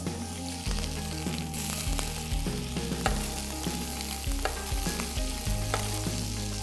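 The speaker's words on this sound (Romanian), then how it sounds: "Dăm cu grăsimea peste bucată de carne ca să obținem o crustă frumoasă și pe lateral" Beef steak fries in butter and fat in a pan with a steady, dense sizzle throughout, close and loud, while the fat is spooned over the meat with occasional stirring clinks and soft musical background.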